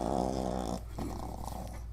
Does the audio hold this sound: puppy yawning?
yes